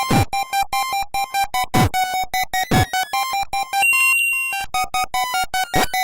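Tinny chiptune-style Rayman 2 music from the Game Boy Color version, with a bouncy, rapid repeating melody and sharp percussive hits, thin and buzzy like a handheld console's sound chip.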